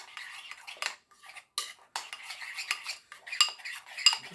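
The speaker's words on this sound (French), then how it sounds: "Je vais le tourner avec une cuillère comme ça." A metal spoon stirs spices and water in a dish, giving quick, light clinking and scraping strokes in an irregular rhythm, close and moderately quiet with no talking.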